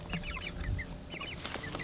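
Meat chickens cluck and chirp in a steady overlapping chatter, with several birds calling close by and short higher peeps scattered throughout, no voices present.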